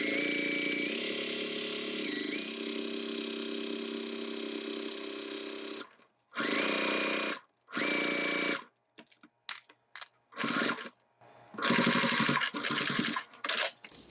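A sewing machine test-stitches through a thick layered piece of fabric for a crossbody strap, first in a long, steady hum, then in a series of short, stop-and-start bursts and brief clicks, close and clear.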